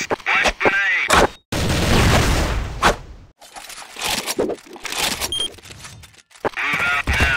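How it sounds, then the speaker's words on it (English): A flash grenade goes off in a video game amid a busy, loud mix of gunfire bursts, booms and radio-style voice lines, with several sharp blasts and brief silences. "Flash grenade."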